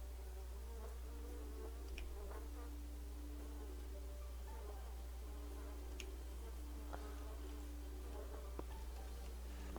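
A quiet, constant low buzzing of bees in the video game Honey Magnate hums throughout, with scattered soft clicks and ticks on top.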